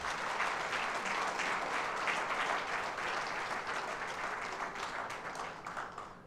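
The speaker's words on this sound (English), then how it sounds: "kindly join me a big round of applause in honor of our today's" An audience at a maritime discourse event in Bangladesh gives a sustained round of applause for the chief guest, a continuous wash of many hands clapping that holds steady for several seconds before tapering slightly at the end.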